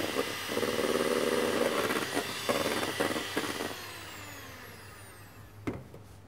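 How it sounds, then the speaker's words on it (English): Egg whites being whisked to stiff peaks for a sweet soufflé give a steady, loud whirring drone that gradually fades over the last seconds, with no talking. "Reserve the yolks and whisk the whites to stiff peaks."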